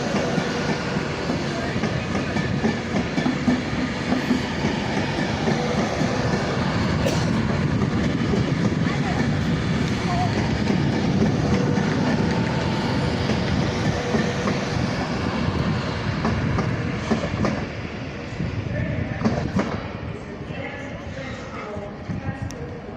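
Steam locomotive 6233 Duchess of Sutherland arriving at a platform in Crewe station, a steady rumbling roll of wheels and rail noise lasting throughout, with people talking over it.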